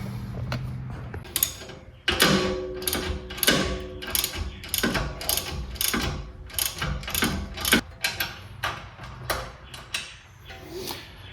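A hand ratchet loosens a 16 mm tie rod bolt on a BMW G80 M3 while lowering springs are fitted, giving repeated bursts of rapid close clicking with short pauses between strokes.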